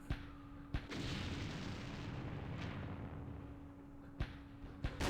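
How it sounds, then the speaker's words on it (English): VM 120 artillery fire in a Vietnam war strategy game set at Dien Bien Phu: sharp distant booms, four or five reports spread over several seconds above a continuous rumbling bed of noise. "Oh, we're causing casualties with the artillery."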